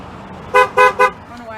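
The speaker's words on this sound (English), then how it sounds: "letting me honk this car" A Ford Escape car horn honking three short, loud blasts in quick succession, close by, with quiet background noise before and after.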